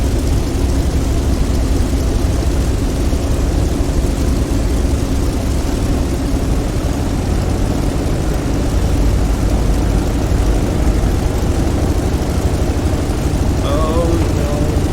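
A Corsair's propeller engine drones steadily in Microsoft Flight Simulator, a loud continuous low roar that holds almost level as the throttle is eased up.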